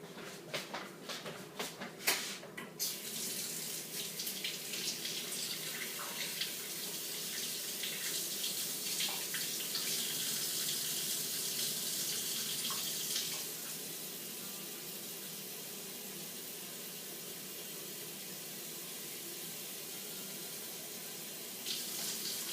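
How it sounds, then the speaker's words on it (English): Tap water runs steadily into a container at a lab sink, a continuous close hiss and splash that changes pitch partway through as the container fills, with a few clinks at the start. "I'm going to put some water in this, and then we'll be ready to shake it"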